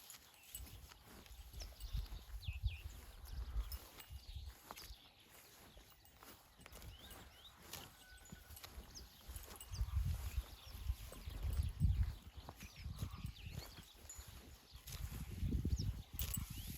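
Draft horses plod along with intermittent hoof clops on hard ground, low thuds clustering in bursts amid outdoor ambience, no talking.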